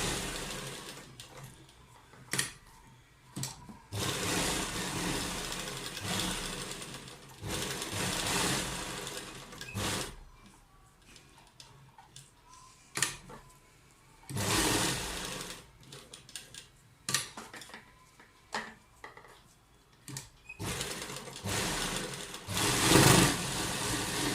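A sewing machine stitches a kurta neck design in several bursts of fast running, each whirring run separated by short pauses and clicks, close and fairly loud with no speech.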